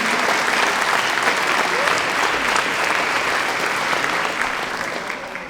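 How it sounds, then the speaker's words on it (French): A roomful of people applaud at a town's New Year's wishes ceremony in Beuvry-la-Forêt, dense steady clapping that fills the hall and fades slightly toward the end. "pouvez les applaudir"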